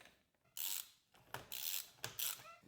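A ratchet with a 24 mm socket on a RockShox Judy suspension fork clicks through several quick bursts of turning, with short pauses between strokes, close and clear.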